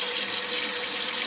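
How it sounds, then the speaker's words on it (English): Cold tap water gushing into a pot over a potato, a loud, steady, close rushing stream with no break and no voices. "then you're going to fill it up with some water, cold water."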